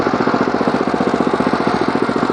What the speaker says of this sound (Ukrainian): А давайте тепер порівняємо на ті самі передачі, але на мінімальних оборотах двигуна.